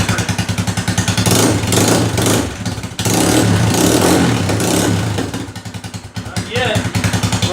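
A motorcycle fitted with a Bashan Storm aftermarket exhaust revs hard in repeated loud bursts, close by, with a voice speaking over the engine between surges.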